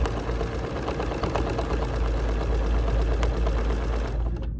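Sewing machine running steadily as it stitches a scallop on an embroidery sampler block, a close, dense mechanical whirr with fast, even needle rhythm that stops abruptly at the end.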